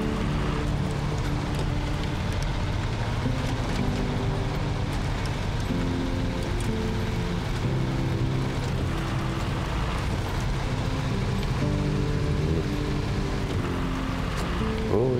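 A truck engine drones steadily in the off-road trucking game SnowRunner on the icy Kola Peninsula map, a low continuous rumble at moderate level that holds throughout with no voices.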